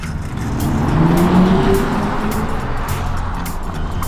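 An electric car in N mode with traction and stability control switched off drives hard, a loud whining motor note rising in pitch as it accelerates, with tyre roar underneath.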